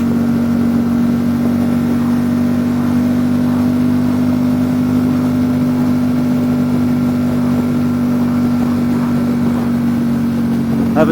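A 2019 Ducati Diavel 1260 S with a Termignoni exhaust rides along steadily, its loud, close engine drone holding a constant pitch under heavy wind rush, with no voices.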